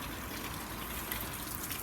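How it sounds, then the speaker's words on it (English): Water poured from a watering can runs over the door of a 2008 Lexus RX 400h, a steady close splashing gush that holds for the whole stretch with no voices. "we're just going to grab some water here in the watering can"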